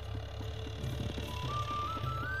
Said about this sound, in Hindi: ये इंजन चल रहा है जिससे पानी फेरा जाता है